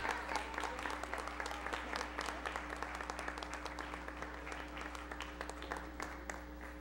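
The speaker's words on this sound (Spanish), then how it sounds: "el licenciado Aldo Núñez Chávez, al cual recibimos con un fuerte aplauso" Audience applauding a second-place award winner at a formal session, a steady patter of many hands clapping fairly evenly throughout, moderately distant and without talk.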